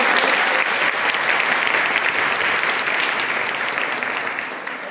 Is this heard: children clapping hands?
yes